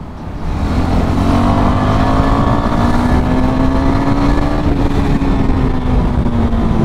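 A KTM Duke motorcycle on a test ride accelerates hard in third gear, its engine close and loud with a steady rising drone over heavy wind rush, no talk heard.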